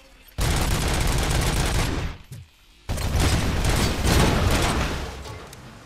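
Rapid automatic turret gunfire in the video game Robocop: Rogue City roars loud and close in two sustained bursts split by a short lull, with no talk.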